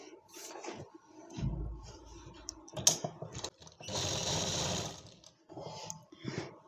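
Sewing machine stitching an Afghani palazzo, short bursts of close rapid mechanical whirring separated by pauses and small clicks and fabric handling, with one longer steady run near the end.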